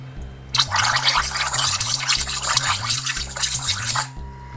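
An airbrush sprays and flushes while held underwater during cleaning, giving a steady, close bubbling hiss over a pulsing low hum that cuts off abruptly at the end.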